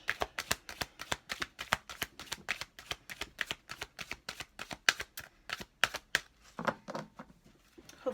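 Thick cards are shuffled by hand in quick, crisp bursts of riffling and flicking, close and fairly quiet, continuing in a brisk rhythm with a few softer handling sounds at the end.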